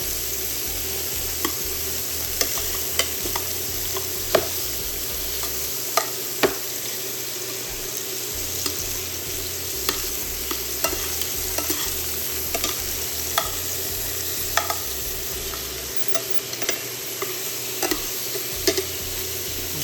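Shrimp fry in a hot pan with a constant dense sizzle and crackle, scattered sharp pops and a few scrapes as they are turned, steady and close throughout.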